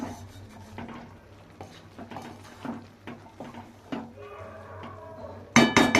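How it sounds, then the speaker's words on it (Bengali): A spoon clinks and scrapes in a pot as shrimp pilaf is stirred after salt is added, with irregular knocks and scrapes throughout and a louder metallic clatter near the end. "আমি লবণটা দেওয়ার পর আমি নাড়াচাড়া করে নিচ্ছি খুব ভালোভাবে নাড়াচাড়া করে নিতে হবে"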